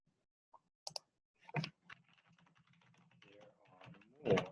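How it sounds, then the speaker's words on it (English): Typing on a computer keyboard comes through as a handful of faint, irregular key clicks and taps spread over a few seconds in a quiet room. "All right, I guess I need to retype it."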